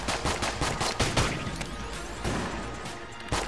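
Chaotic barrage of gunfire and grenade blasts in the video game Enter the Gungeon, dense rapid shots and bursts overlapping continuously at moderate loudness with a few heavier booms.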